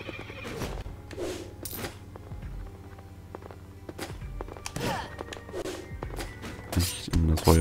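Horse enemy neighing in the video game Rogue Legacy, with brief whinny bursts over game music and thudding effects.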